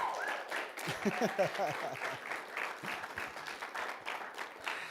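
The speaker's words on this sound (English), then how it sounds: "can we give Ben a round of applause" Applause from a keynote audience at a TEDx-style event in Orem, Utah, greeting a speaker named Ben; sustained, fairly dense clapping from a crowd, steady in level, with a few sharper individual claps early on.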